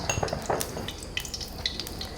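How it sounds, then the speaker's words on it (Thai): Pork lard sizzles and crackles in a hot pan, with a few light clinks of metal utensils near the start. "กระทะร้อนแล้วนะคะคุณยายก็ใส่น้ำมันเลย"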